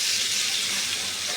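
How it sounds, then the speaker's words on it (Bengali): Onion, coconut and chillies frying in hot oil in a wok give off a loud, steady, close-up sizzle that fills the whole short stretch without any talking. "কড়াই তেল দিয়ে দিচ্ছি। আমি যে পেঁয়াজ আর নারকেল আর লঙ্কাগুলো একটু ভেজে নেব, সেইগুলো দিয়ে দিচ্ছি।"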